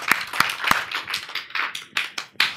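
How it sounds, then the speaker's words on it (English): A single person claps hands for a conference audience at an agile software talk, a handful of sharp, separate claps in an uneven rhythm, close and fairly loud, with no talk over them. "So I'll clap for you."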